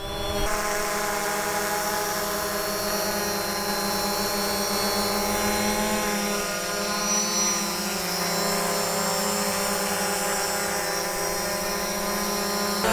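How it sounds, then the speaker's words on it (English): Steady high-pitched whirring of the propellers of a FIMI X8 SE 2022 drone hovering close by, a constant tonal buzz with no voices. "Hear how noisy the props are?"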